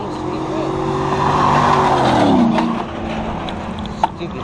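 A car speeds through a red light on a city street, its engine and tires producing a rising, sweeping whine that passes close by over steady traffic noise.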